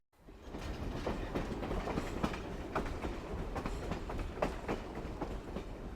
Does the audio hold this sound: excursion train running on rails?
yes